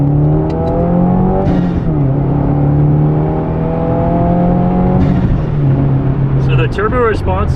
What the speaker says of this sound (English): I can hear immediate different sound and just a little bit more aggressive tone in the exhaust.